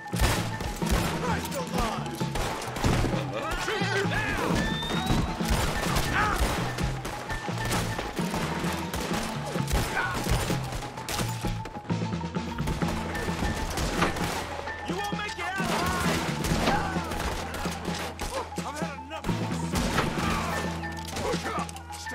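A gunfight in the video game Red Dead Redemption 2, with rapid, overlapping gunshots, crashes and impacts over a music score for about twenty seconds; voices call out amid the dense, continuous din.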